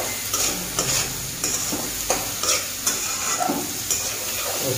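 Chicken and mixed vegetables fry in a pan for a curry while being stirred, a loud close sizzle with rhythmic spatula scrapes every half second or so, no one speaking.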